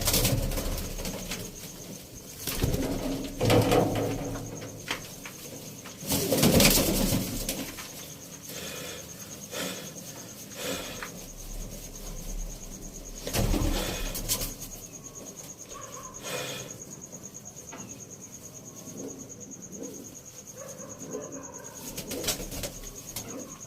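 Pigeons kept as a hobby flap their wings in loud bursts near the start and again mid-way, with soft cooing and a steady insect-like background hum between, and no talking.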